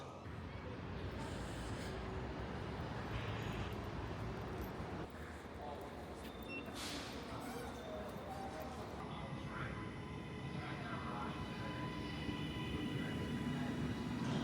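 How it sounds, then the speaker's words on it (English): A TransPennine Express train rumbles and squeals as it rolls slowly into a station, with a low steady drone and brief metallic whines, faint voices murmuring in the background. "my train has pulled in now"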